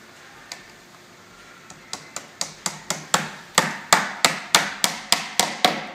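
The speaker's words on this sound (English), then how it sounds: "Once you have the post wrap held snug in place, nail it at the bottom." A hammer drives nails through a vinyl post wrap into a post, about a dozen sharp, close blows that start light and sparse, then land louder and steadily faster, with no talking.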